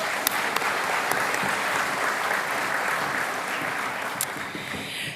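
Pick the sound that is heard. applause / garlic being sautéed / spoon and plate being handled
applause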